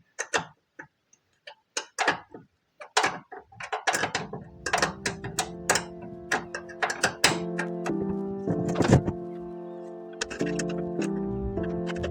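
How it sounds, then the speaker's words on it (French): A 10 mm wrench loosens the seat nuts on a Renault 4L with rapid metallic clicks and ratcheting ticks. A steady mechanical hum sets in underneath partway through, and the sound stays close with no speech. "Tu prends ta clé de 10, tu desserres, tu déboîtes ton siège."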